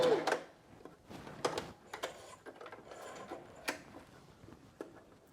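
A sewing machine stitches a fabric skirt tie, backstitching at the end, with a busy mechanical whir broken by clicks and short bursts; it is fairly quiet and close, with no talk.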